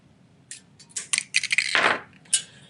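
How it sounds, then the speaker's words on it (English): Excess guitar string on a one-string electric guitar being snipped with cutters, a string of sharp metallic clicks and snaps with a brief rattling scrape, close and alone. "I'm going to snip off the excess string."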